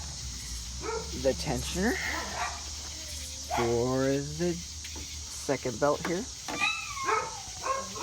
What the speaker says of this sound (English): the dogs are gonna sing to you.